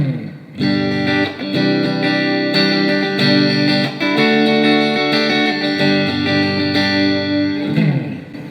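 An electric guitar plays sustained chords through a Vox VT40X amp on a clean setting with a light touch of reverb, fairly loud and continuous, with brief pauses between strums.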